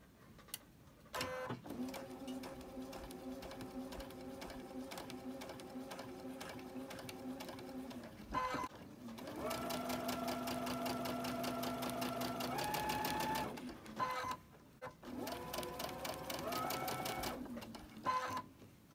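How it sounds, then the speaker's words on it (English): Sewing machine stitching a quilt block at a quarter-inch seam, running in steady motor bursts with brief pauses between seams, close and clear with no talk. "And I'm going to start sewing."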